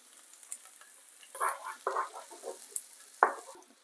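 Garlic drops into a pan of onions frying in oil for Jamaican-style coconut curry chickpeas: soft, scattered crackles and brief spatula scrapes over a quiet background, with no talking.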